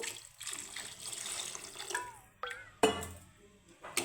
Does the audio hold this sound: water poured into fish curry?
yes